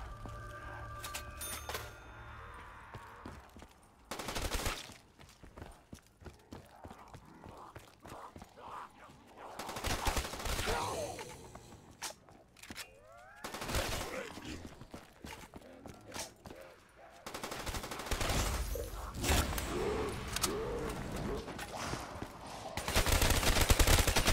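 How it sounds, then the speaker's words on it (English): Bursts of rapid automatic gunfire from an AK74u in Black Ops 3 Zombies Chronicles, rattling in quick volleys with clicks of reloading between them, some faint voices underneath. "you can hear the bullets firing, and reloading the clip or magazine just sounded a lot more realistic"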